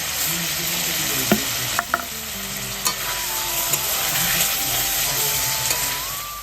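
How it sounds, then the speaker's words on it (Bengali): Potatoes pre-fried with salt and turmeric tipped into a hot pan in a small open kitchen, a loud, steady sizzle with a few sharp clatters of stirring, close and continuous. "এবারে আলুগুলো দিয়ে দিচ্ছি আলুটা কিন্তু আমি ভেজে রেখে দিয়েছি লবণ হলুদ দিয়ে"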